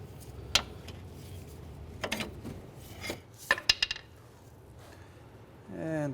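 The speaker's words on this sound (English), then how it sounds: "We're just using a pry bar on one side to kind of help us align the holes." A steel pry bar scrapes and clinks against metal while aligning strut-to-knuckle bolt holes on a 2003–2011 Honda Element, with a few sharp metallic taps and rasps, then a brief rising squeak near the end.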